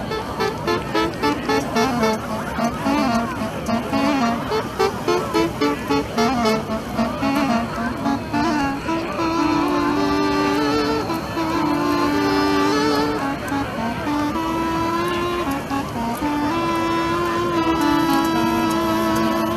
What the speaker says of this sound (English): musicians playing the avlos, an ancient wind instrument